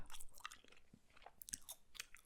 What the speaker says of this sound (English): vibey chewing gum, and that's what we're doing.